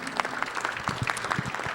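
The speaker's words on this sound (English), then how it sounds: "a big round of applause for Christina Lee." A crowd at a grand opening claps in a steady round of applause, dense and sustained for a couple of seconds, with a voice faintly mixed in.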